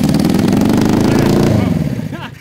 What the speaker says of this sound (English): Let me crank it over without the ignition on.